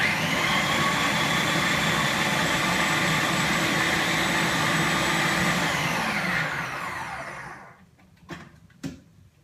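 A blender mixing a vegan no-bake matcha tart filling runs with a loud, steady high whine, then winds down and stops, followed by a couple of soft knocks.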